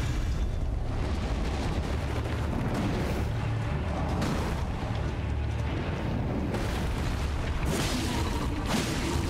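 An enemy in Elden Ring fires projectiles, producing repeated heavy booms and bursts layered over a dense, rumbling roar that never lets up, loud and close throughout.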